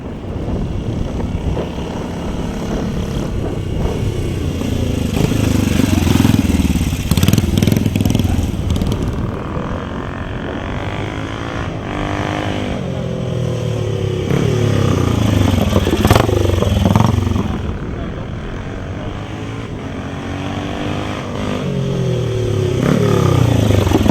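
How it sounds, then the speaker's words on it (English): Yorkshireman Jim Lee's motorcycle, built on a frame of his own design, climbs the Brooklands test hill. Its engine drones loud and continuous, pitch rising and falling as it works up the slope and crests, with no voices. "The bike of Yorkshireman Jim Lee has a frame of his own design. And it crests the test hill."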